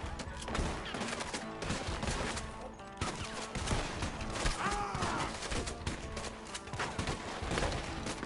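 Gunfire in a Red Dead Redemption style shootout as Arthur at Blackwater, with a varmint rifle among the weapons, shots cracking steadily across a busy, dense mix of battle noise.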